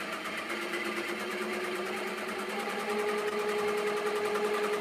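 Embroidery machine stitching out a design, a steady, fast mechanical whir with rapid needle ticking and a faint tonal hum, continuous and close throughout.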